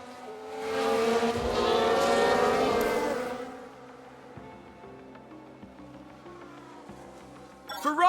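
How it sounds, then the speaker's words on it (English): Aston Martin race car in the F1 Manager 22 racing game spins out, a loud high engine wail swelling and fading over a few seconds, followed by quieter engine drones as other cars pass. "This was the Aston Martin. And yes, that's where they spin out."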